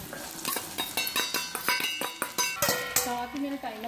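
Moong dal goes into very hot ghee, setting off a rising frying crackle with a run of sharp, rhythmic clinks and scrapes against the pan, close and clear, with no talking.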